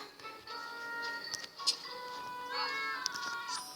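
A cat meows several times in drawn-out, tonal cries in The Sims FreePlay, fairly close, with light clicks and background sounds between the calls.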